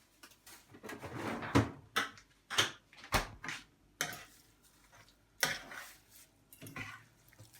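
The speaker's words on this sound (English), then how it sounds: "And then we'll give that a good stir." A spoon stirs vegetable curry in a pan, irregular clanks and scrapes of metal against the pan, close and fairly loud with quiet gaps between strokes.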